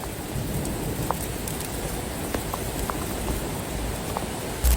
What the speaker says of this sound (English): Look at that water coming over that side.